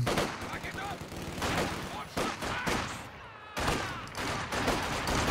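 Machine gun fire in Company of Heroes 2, rapid bursts of rattling shots repeating through the clip amid battle noise, with a brief gap partway through and voices in the mix.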